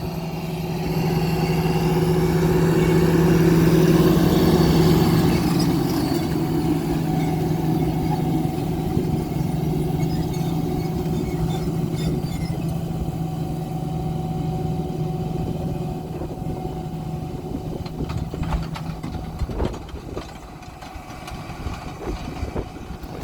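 Tractor engine running steadily in a soft field, a constant mid-pitched drone with tonal hum that continues throughout, fairly close, with some clattering toward the end.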